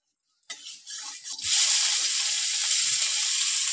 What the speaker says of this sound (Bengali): আমি এবার চিংড়ি মাছটাকে ভেজে নেব।